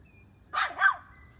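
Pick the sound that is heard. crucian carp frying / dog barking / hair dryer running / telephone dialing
dog barking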